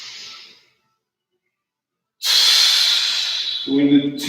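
A deep, loud breath close to the microphone during a full-body strength workout, with a long, hissing exhale after a quiet pause and a short burst of voice at the end.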